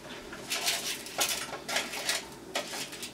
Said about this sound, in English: Still got to grab the other pan out of the oven because they are cooked as well.